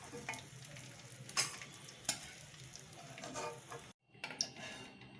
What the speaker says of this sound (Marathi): रवा आपला भाजून झालेला आहे।